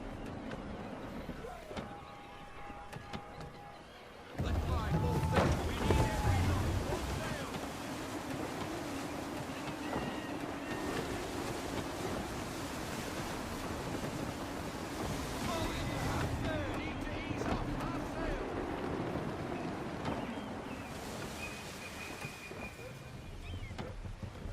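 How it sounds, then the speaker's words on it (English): Gusty wind and rolling surf rush against a sailing ship in Assassin's Creed 3 Remastered, a steady loud roar that swells sharply after a few seconds and holds, with faint creaks and tones through it. "Gusty winds can be difficult to manage."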